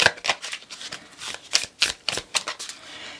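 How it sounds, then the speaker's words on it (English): Tarot cards being shuffled by hand, a quick series of about ten crisp riffling bursts, close and fairly soft, with no talking. "We're shuffled, but I'm wanting to shuffle some more."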